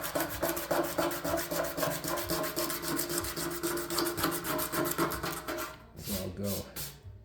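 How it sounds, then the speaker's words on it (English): A motorcycle fuel tank on an ATC250R is scuffed by hand before body filler goes on, giving quick, rhythmic abrasive rubbing strokes close up that continue steadily, then break into a few separate final strokes. "Now there's one up here, I'll scuff it, and then we'll do the body filler"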